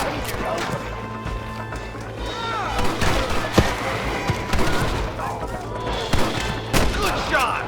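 Gunfire in the Red Dead Redemption video game, a few sharp shots and bursts scattered over busy game ambience with hoofbeats and shouting voices.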